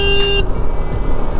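A single short car horn toot sounds up close over a rumbling vehicle engine, then stops as the road noise continues.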